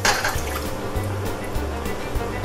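Water pours steadily into a pot for homemade BBQ sauce, making a continuous splashing rush that stays loud for the whole clip.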